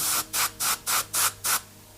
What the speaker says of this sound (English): it's just a matter of training to use the airbrush